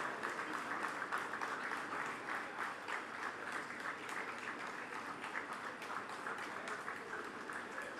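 Sustained applause fills a convocation ceremony hall as graduating students' names are read, a dense, steady wash of many hands clapping at an even level throughout.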